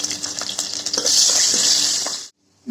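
Crushed garlic fries in hot oil with dried red chilli and nigella seeds, giving a bright, crackling sizzle with a few stirring knocks before it cuts off abruptly near the end.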